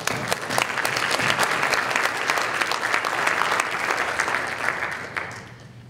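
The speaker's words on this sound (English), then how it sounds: "I want to give a round of applause to all of them." Audience applause for county staff at a drug and alcohol awareness event, a full steady wave of clapping from a crowd that holds strong and then tapers off at the end.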